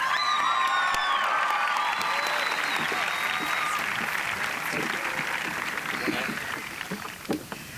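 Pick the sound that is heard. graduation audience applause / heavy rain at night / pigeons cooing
graduation audience applause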